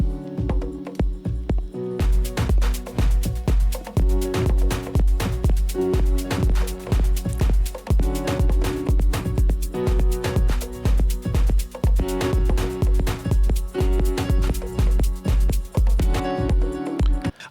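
Two mismatched electronic dance tracks on a laptop DJ setup play at once, their kick drums clashing in a galloping, off-beat clatter over dense layered synths, loud and continuous with a brief quieter start and end.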